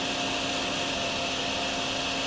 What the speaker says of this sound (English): We're going to vacuum up a bunch of this water here as well.